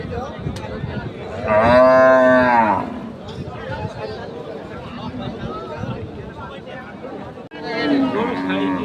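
Thin crossbred cattle at the Ambari livestock market give two loud, close, drawn-out moos, one early and one near the end, over a crowd chattering in the background.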